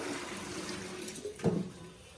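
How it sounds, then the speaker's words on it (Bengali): Teasel gourd and onions being rinsed under running water in a kitchen, a steady close splashing flow with a brief louder gush near the middle and no talking. "কাঁকরোল ধোয়া হচ্ছে, কাঁকরোল আর পেঁয়াজ"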